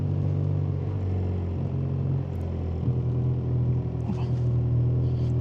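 A 2025 BMW R 12 G/S boxer-twin motorcycle riding at low speed in first gear, a steady close low engine rumble with slight throttle swells and light wind, no talk.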